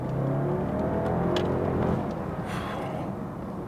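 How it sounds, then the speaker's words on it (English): A used BMW 6 Series engine runs nearby at moderate volume, its pitch rising briefly as it revs before easing back to a smooth hum. "One sound that does sound very nice is this engine."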